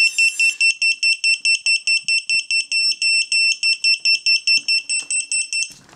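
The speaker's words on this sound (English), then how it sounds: "So it has a beeper installed" A small quadcopter drone's onboard beeper sounds a steady run of rapid, shrill electronic beeps, about three per second, loud and close, continuing for several seconds with no talking.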